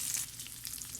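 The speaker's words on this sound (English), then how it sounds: "There's some minor sizzlage right here." Guanciale frying in a pan over medium-low heat, giving a bright, crackly sizzle with small popping fat, steady and close for about a second.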